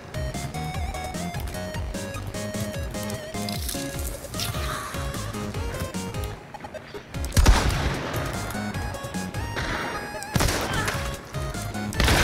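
Shotgun fire in the video game Hunt: Showdown, several loud blasts with one heavy boom in the middle, over busy game sound.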